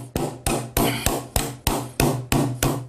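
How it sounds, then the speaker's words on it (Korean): A mallet taps the spine of a carving knife cutting into a wooden signboard during traditional wood carving, nine sharp, evenly spaced knocks with short decaying rings, close and loud with no talk. "칼을 가볍게 쥐고 이 칼을 조금씩 흔들어주면서 망치로 칼등을 두드려 색임질한다."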